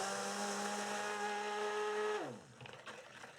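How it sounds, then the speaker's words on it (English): A stick blender whirs steadily through cold process soap batter, a loud continuous motor whine that holds for about two seconds before winding down with a falling pitch, followed by faint handling noises. "just bringing in our stick blender now, and I'm just going to give it a few seconds of stirring and pulsing with"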